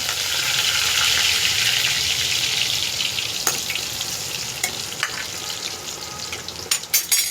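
Mustard seeds, cumin, garlic and curry leaves sizzling in hot oil for a vegetable dish, a loud close hiss that fades slowly, broken by sharp pops and clinks near the end.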